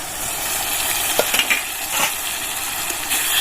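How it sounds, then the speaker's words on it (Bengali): Garlic and tomato puree sautéing in a pan for a chicken curry, giving a continuous close sizzle with a few light stirring clicks and scrapes, no talk over it. "এগুলো ভালো করে কষিয়ে নেবো"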